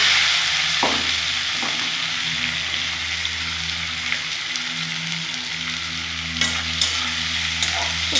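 Cut potatoes frying in a pan with a steady, loud, close sizzle throughout, broken by occasional spatula scrapes and light taps.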